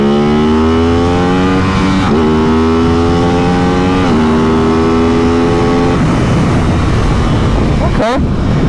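A 2023 Aprilia RS660 motorcycle engine revs hard while ridden, its pitch climbing through several gears with brief dips at each shift, loud and close over heavy wind noise.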